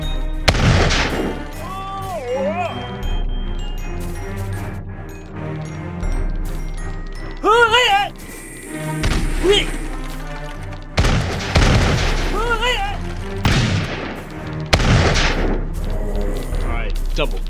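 Gunfire and booming blasts from a large unit battle in Totally Accurate Battle Simulator come in bursts between stretches of game music and effects, and some bursts are loud and close.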